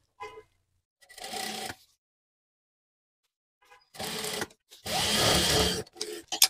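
Bursts of a sewing machine stitching the base of a fabric bag made from leftover cloth, short whirring runs separated by pauses, close and fairly loud, ending with a brief sharp click.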